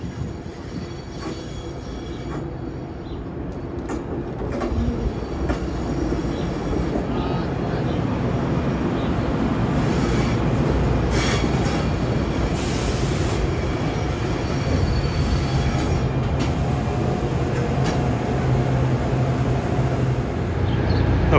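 The Dinky commuter train rolls along with a steady loud rumble that grows slightly. Wheel squeal rises and falls over the clatter of the cars throughout.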